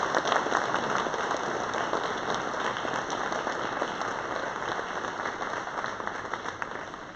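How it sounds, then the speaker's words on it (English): An audience applauds at a 2024 Juab County community awards event, with dense, steady clapping that keeps going evenly at a moderate level and never breaks. "Give one more round of applause for our top 6 nominees and for all of you."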